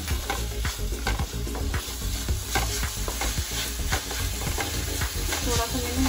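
Schezwan paneer Hakka noodles with black pepper being stirred and tossed in a hot pan, continuous sizzling with quick repeated scraping and clattering strokes close by, no talking.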